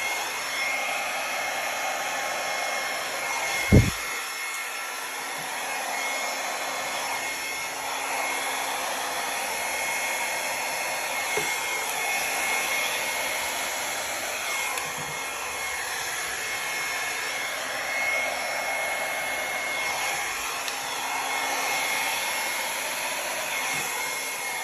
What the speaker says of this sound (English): I'm just gonna blow it out with my hair dryer.